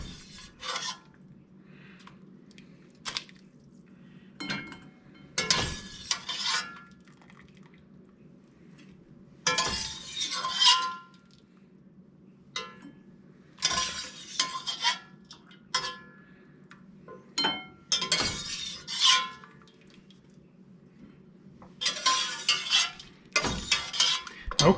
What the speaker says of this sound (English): now's when we're going to take the meat out of the pot